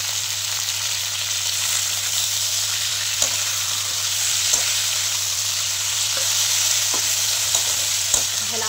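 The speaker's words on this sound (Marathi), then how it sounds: "चला, बटाटा असा फ्राय झालाय बघा." Potatoes frying in a pan, with a steady loud sizzle and a few soft scrapes and clicks of stirring, close up, with no talking.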